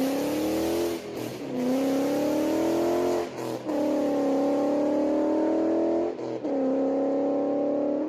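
A Ford Mustang S550 engine revs hard in long sustained pulls with brief dips between them, a loud, deep, throaty roar close by.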